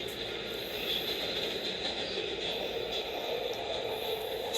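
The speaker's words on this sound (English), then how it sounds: "The train is going from that side, and I'm riding it for a very long time." A steady, loud rumble and whine from a subway train on rails in South Korea, heard from inside a moving car, with a continuous high-pitched hum and faint wheel squeal throughout.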